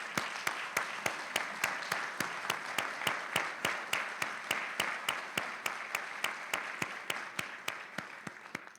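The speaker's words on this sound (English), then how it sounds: "Let's give him one more round of applause" An audience applauds at a college Founders' Day ceremony, but the claps land as an even, evenly spaced rhythm of sharp beats, loud and fairly close, tapering slightly toward the end with no voices.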